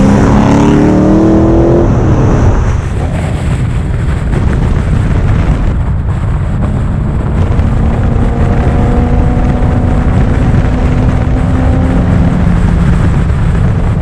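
A Volvo 240 with a 3-inch exhaust, resonator, X-pipe and twin rear silencers runs loud and throaty, revving up at first, then settling into a steady rumble with rising engine notes later.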